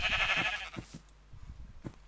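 Sheep bleating in the video game Minecraft: a couple of short nasal bleats over a noisy, hissy game background with low rumbling effects, no talk over it.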